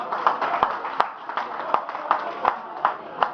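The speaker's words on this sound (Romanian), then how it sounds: "Aplauze pentru Ciulea!" A stand-up comedy audience at a party show claps in a steady, evenly spaced rhythm. Roughly ten distinct claps ring out over a soft room murmur.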